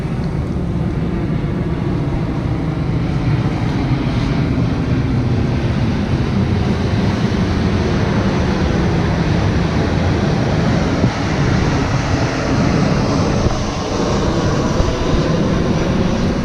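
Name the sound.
busy airport with aircraft, Kota Kinabalu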